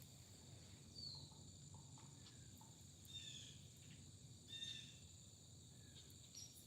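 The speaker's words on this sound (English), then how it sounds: "I live in the country, so you can hear all the birds and little animals waking up" Countryside morning ambience outdoors, with faint chirping birds and steady insect or cricket trills over a low, constant background hum, occasional brief calls standing out.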